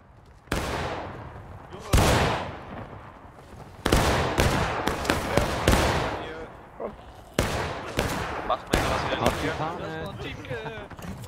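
Musket volleys crack and boom in a multiplayer skirmish of the Civil War game War of Rights at Bolivar Heights, loud repeated shots, some near and some overlapping, under shouted German voices.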